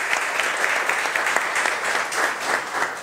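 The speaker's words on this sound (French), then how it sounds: "Nourdin Lkhmari, sous vos applaudissements." Audience applause for a guest at a French-language talk on arts and cultural project management, a steady dense wash of clapping hands across the whole stretch with no voices over it.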